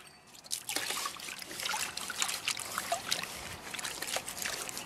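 Water swirling and sloshing in a gold pan as a sample of crushed material is worked, giving soft trickling and splashing in uneven rhythmic surges, close but faint, with no voices.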